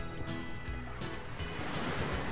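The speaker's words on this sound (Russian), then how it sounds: "Маша Стремительная на перегонки с волной!" Ocean waves wash and break in a continuous rushing surge with wind noise, loud and close, with no voices.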